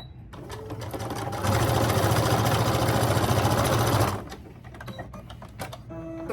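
A sewing machine stitches tiny darts on pants made from Trader Joe's cheese bags, running in a steady, loud, fast whir for about three seconds, with quieter handling noises before and after.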